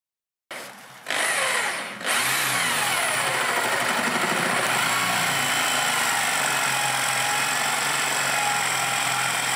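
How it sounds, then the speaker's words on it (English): A power drill whirs steadily and continuously after a brief start-and-stop, drilling at an angle into wood for chair legs, running close and loud with a high-pitched grinding whine. "When drilling for the legs, drill at an angle"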